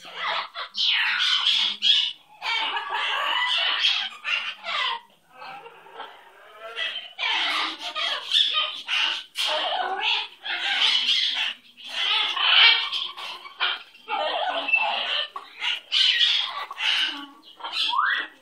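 A pet bird with red tail feathers squawks loudly and close up in long harsh bursts, with short pauses between them, over about eighteen seconds.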